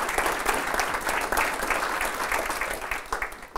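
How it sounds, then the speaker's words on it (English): Steady applause from an audience at a business talk, honoring an employee of 25 years at Auto & Home; dense, even clapping fills the whole stretch at moderate distance with no speech over it. "Big round of applause."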